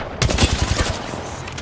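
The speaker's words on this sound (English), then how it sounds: "Shooting at me." A rapid burst of automatic gunfire fires off in the video game Apex Legends during a championship match, with about eight quick shots followed by a fading echoing tail.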